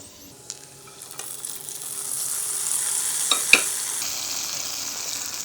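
Ghee-fried ingredients, still in their hot ghee, are poured into a pot of mango payasam. A soft hiss swells into a steady sizzle, with a few sharp clicks and a pop partway through. No one speaks.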